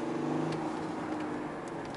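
A 2020 Audi A7 S Line Sportback engine pulls hard at full throttle in third gear, a steady, dense roar heard continuously without talking.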